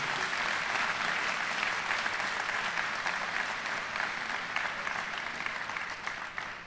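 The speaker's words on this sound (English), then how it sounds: "So let's give them a round of applause." A university opening-day audience applauds steadily, a dense wash of many hands clapping at moderate distance, tapering slightly near the end.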